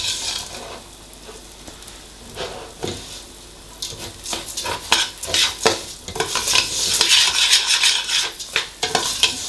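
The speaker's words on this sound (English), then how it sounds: "You want to fry them together for about a minute." Ingredients for chilli con carne frying together in a pan, with a steady sizzle under repeated scraping and stirring strokes that grow busier and louder toward the end; no talking.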